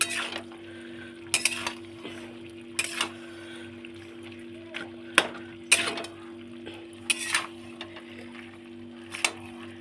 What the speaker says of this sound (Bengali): পুঁই শাকটা একটু নাড়িয়ে নেবো, ভালো করে নাড়িয়ে নিতে হবে একটু।